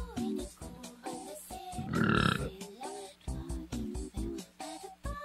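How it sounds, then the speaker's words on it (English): A single loud, drawn-out burp rumbles close up in the middle, surrounded by short spoken phrases before and after. "That's like a good sound effect if I ever need a burp."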